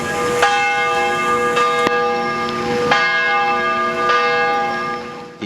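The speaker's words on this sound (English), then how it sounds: "Nearby, a church bell tolled." A church bell tolls repeatedly at a slow, steady pace, each ringing strike leaving a long humming decay that overlaps the next.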